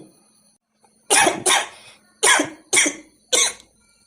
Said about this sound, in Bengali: তোমার মনে হয় একটু কাশি হয়েছে, তাই না?